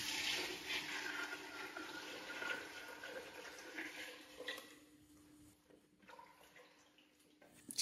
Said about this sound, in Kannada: ಸಿಂಪಲ್ 2 ಲೀಟರ್ಸ್ ನೀರು ತಗೊಂಡಿ 1 ಕೆಜಿ ಮಟನ್ಗೆ 1 ಕೆಜಿ ರೈಸ್ಗೆ ನೀರು ಹಾಕ್ತಾ ತಗೊಂಡಿರೋ ನೀರು ಹಾಕ್ತಾ ಇದ್ದೀನಿ